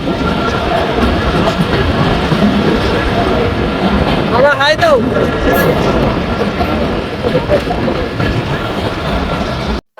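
A train rumbles steadily along the rails leaving Kashiani Junction, Bangladesh, with a continuous roar, a brief squealing screech rising midway through, then fading at the end.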